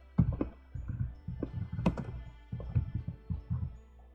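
Keys clatter on a computer keyboard while a parameter name is entered in Revit, with a close, uneven run of taps and thunks that comes in short bursts with small pauses between them.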